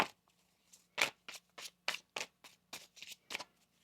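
Tarot cards shuffled by hand in a quiet room, a run of about ten crisp riffling bursts in a steady rhythm, close and fairly soft.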